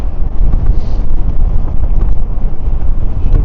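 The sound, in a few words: wind noise while riding an e-bike into the wind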